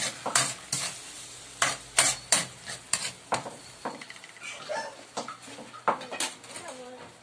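A utensil stirs broth cubes through a sizzling pan for sweet and sour luncheon meat, with a dozen or so sharp metallic scrapes and clinks in an uneven rhythm over a light frying hiss.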